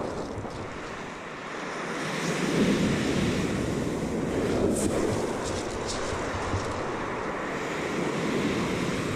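Sea waves breaking on the shore at high tide, a continuous roar that swells louder after the first seconds, mixed with wind buffeting the microphone, close and alone without voices.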